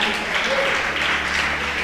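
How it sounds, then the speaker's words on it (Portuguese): A church congregation applauds during a Sunday worship service, a continuous wash of clapping that fills the short stretch evenly with no break. "Aplauda o Senhor Jesus bem forte."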